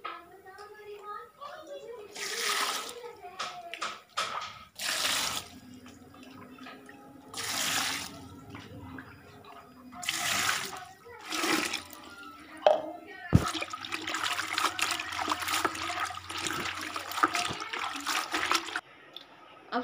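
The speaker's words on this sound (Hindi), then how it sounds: "मैंने सारे साग को चुन लिया है, अब इसको अच्छे से वॉश कर लूंगी" Mustard greens being washed in water at home for a village-style lunch, with bursts of splashing and rinsing that come and go over about twenty seconds, interrupted by handling noises and brief pauses.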